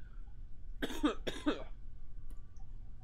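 Two harsh, close coughs in quick succession after a dab, followed by quiet room tone.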